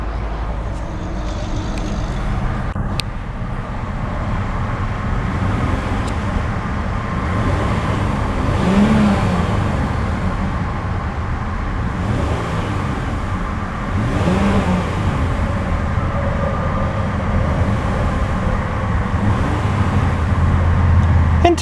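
Revs from a 2014 Hyundai Azera Limited's 3.3-liter V6 rise and fall in a few moderate swells over a constant engine hum, heard fairly close with no talking.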